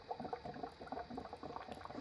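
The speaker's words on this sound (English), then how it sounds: "Let's see if I can capture that water. Yep, you see it dripping." Water trickles and drips from the outlet of a compact PEM hydrogen generator, giving a faint, continuous bubbling patter with no voices.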